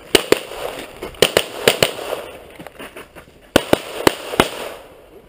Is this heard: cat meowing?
no